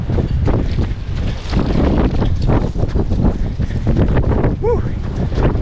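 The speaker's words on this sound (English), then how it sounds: "It is windy out here." Strong wind blows steadily outdoors, a loud, continuous buffeting rush against the microphone that lasts throughout, with a brief whistling tone near the end.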